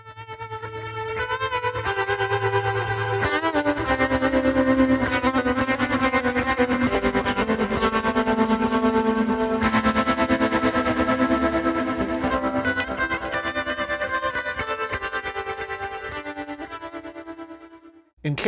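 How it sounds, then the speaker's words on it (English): Electric guitar run through an Axe-FX III modulation preset called Undulation, a sustained, shimmering chorded passage with swirling, echoing wobble, steady and loud for about eighteen seconds before cutting off. "Open up your Axe FX3 to preset number 203, Undulation."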